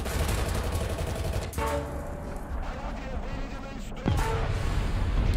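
Tank gunfire in War Thunder: dense, continuous rattle of hits and shots under steady loud battle noise, with sharp heavier impacts near 1.5 and 4 seconds.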